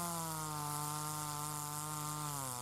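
A chainsaw cuts firewood outdoors on snow in winter, its engine holding a loud, steady buzzing whine throughout, with the pitch sagging slightly near the end as the chain bites into the log.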